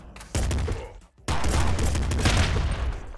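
In the roguelike game Nuclear Throne, shotgun blasts and other gunfire rattle out as a loud, dense barrage. It starts, drops out briefly after about a second, then comes back heavier, with someone speaking faintly underneath.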